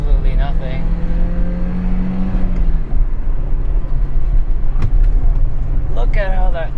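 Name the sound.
Citroen Xantia manual car accelerating at full throttle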